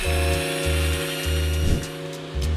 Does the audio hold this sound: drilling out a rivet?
yes